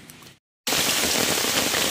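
Heavy rain by a river drumming on an umbrella, a loud dense hiss that bursts in suddenly after a brief silence and continues steadily, with no voices.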